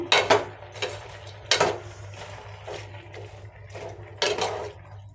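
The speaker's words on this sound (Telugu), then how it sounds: "బెల్లం వేసుకున్నాము కదా ఒకసారి కలుపుకుందాము" Sweet pumpkin halwa being stirred with jaggery in a pan, the spoon scraping and knocking the pan in irregular strokes, close and moderately loud, no talk.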